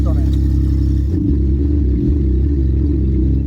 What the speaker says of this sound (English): when you start the engine, that is loud. As you would expect with no exhaust.